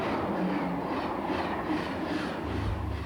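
A train rumbles steadily along the rails as it approaches a tunnel, with a continuous low roar and faint rhythmic clatter from the wheels, loud and close throughout.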